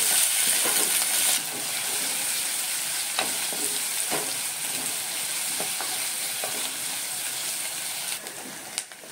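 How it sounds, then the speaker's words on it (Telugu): Onions, coriander and curry leaves fry in oil for a soya chunk curry, making a steady close sizzle broken by several sharp spatula scrapes and taps against the pan. "తర్వాత ఆనియన్స్ వేసుకోవాలి. కొంచెం కొత్తిమీర, కరివేపాకు కూడా వేసుకొని ఇవి ఫ్రై చేసుకోవాలి."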